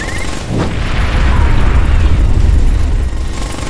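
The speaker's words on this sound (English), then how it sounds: "Missile incoming!" A missile explodes in the video game Ghost Recon Advanced Warfighter 2, a loud, sustained booming blast with a rumbling low roar that holds steady for several seconds with no voices over it.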